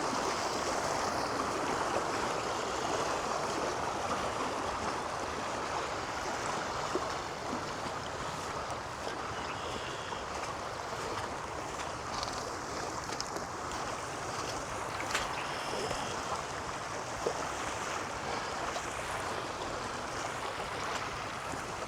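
Water flows steadily through a drain grate into a forming pond outdoors, a continuous rushing, trickling wash that stays even and fairly close throughout with no talk.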